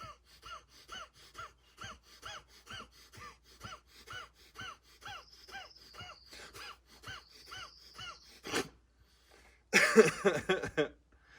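Rapid, rhythmic breathing exercise with sharp, regular puffs of breath at a steady quick pace, followed by a short pause and then a burst of harsh, loud coughing near the microphone.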